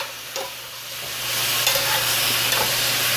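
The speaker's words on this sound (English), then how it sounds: "I turned the heat off already, so we're just cooking on a warm pan, really." Pork and broccoli stir-frying in a warm pan with the heat already off, giving a steady soft sizzle with faint clinks, no talking, the hiss swelling slightly louder partway through.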